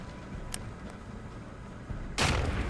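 Gunfire from units in the real-time strategy game Command & Conquer: a couple of faint distant shots over low battle rumble, then a louder, harsh blast near the end.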